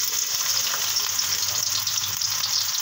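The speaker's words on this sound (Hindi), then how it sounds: "अब हम इसमें प्याज ऐड कर देंगे।" Sliced onions dropped into hot oil in a kadhai while cooking chicken karahi, giving a loud, steady, continuous sizzle and frying hiss with no talking.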